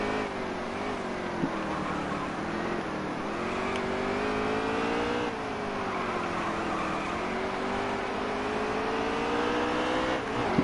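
Race car engine in NASCAR Heat 3 on the Charlotte Roval, droning steadily at high revs with its pitch rising and falling through the lap, loud and close the whole time with no talk over it.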